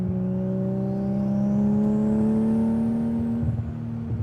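Nissan Skyline R32 GTR engine with the exhaust cutout open revs steadily upward in a loud, droning, rising pitch, close by and sustained, then eases off near the end.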